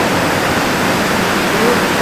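Water rushing through a drainage tunnel beneath the mountains, past concrete speed-reducing steps, makes a steady, loud, dense roar that fills the whole stretch without a break.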